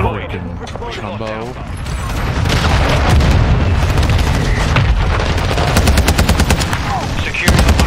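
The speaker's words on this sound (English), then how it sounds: "Friendly cruise missile deployed." Heavy explosions and rapid gunfire build into a loud, continuous barrage in a first-person shooter match on a small map, booms layered with bursts of automatic fire, while players talk over the chaos.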